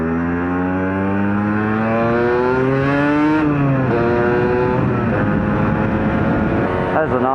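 A Yamaha RD 125 LC two-stroke motorcycle pulls away in third gear, its buzzy engine note rising steadily, dropping briefly at a gear change and climbing again, loud and close with wind noise.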